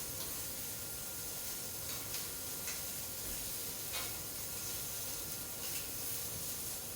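Shrimp crusted with Urfa chili and sumac sizzle steadily on a hot pan as they are turned over, giving a broad, even hiss with a few faint crackles.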